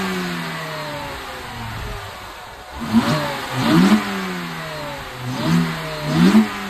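Engine revs from a BMW 325i E90 fitted with a cold air intake, rising in several loud surges over a running idle, each blip swelling and falling back, with a deep, slightly aggressive tone and no talking.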